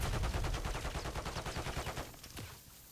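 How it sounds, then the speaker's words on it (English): Rapid, dense gunfire from a first-person shooter game, loud and close in a steady burst for about two seconds before trailing off, with a single sharp shot near the end. "I just got sniped at."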